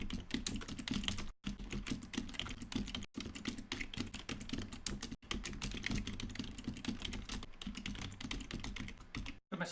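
Continuous quick typing on a computer keyboard, dense clatter of keystrokes at close range with a few short pauses, no one talking.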